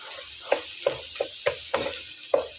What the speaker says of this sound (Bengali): আলুটা দিয়ে এটা খুব ভালোভাবে মশলাটার সঙ্গে মাখিয়ে নেব